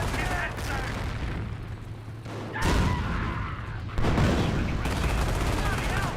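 Mortar rounds fire in the Company of Heroes video game, a few booming gunfire bursts rising above continuous battle noise, with a commentator talking over them.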